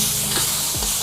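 Tofu strips frying in oil in a pan, a steady broadband sizzle filling the whole short stretch with brief stirring scrapes, close and fairly loud, no voices.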